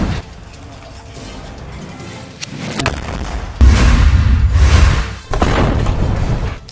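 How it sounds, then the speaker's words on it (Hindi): A rocket fired at soldiers inside a building lands as a heavy boom, followed by a sustained roaring blast, with several loud thuds and crashes rumbling through the surrounding space. "अल कासिम का लड़ाका उनके ऊपर रॉकेट दाग देता है"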